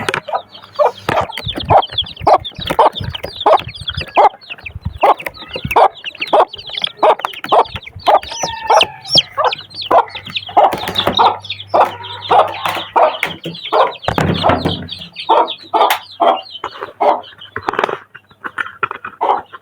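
Aseel hens cluck busily and repeatedly close by, a dense run of short clucks and squawks with brief rustling and thumps.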